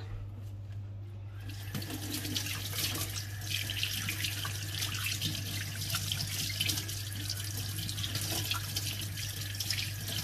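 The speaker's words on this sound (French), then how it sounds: "il faut laver le poisson. Comme ça, il ne glisse plus." Steady stream of tap water running over sea bream being washed in a sink, a continuous rushing hiss with a low hum underneath, close and fairly loud throughout, no talking.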